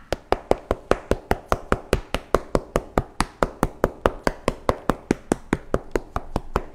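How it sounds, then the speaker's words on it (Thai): A ripe durian is struck repeatedly with the handle of a knife, giving a steady run of about thirty dull, hollow taps at a brisk, even rhythm, close and clear with no talking. "ให้ใช้ด้ามมีดนะคะในการเคาะเดี๋ยวจะเคาะให้ดูสำหรับทุเรียนที่กินได้แล้วเสียงจะเป็นประมาณนี้ค่ะ"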